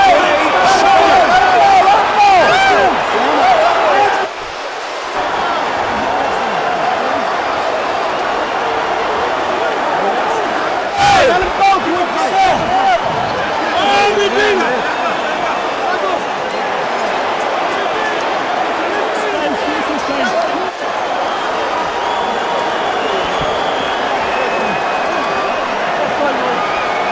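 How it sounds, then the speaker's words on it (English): A stunned boxing crowd fills the MCI Center arena in Washington, D.C. after Mike Tyson quits on his stool against Kevin McBride, a loud, continuous roar of murmuring and chatter with a brief dip and scattered thuds. "A stunned crowd here at the MCI Center in Washington"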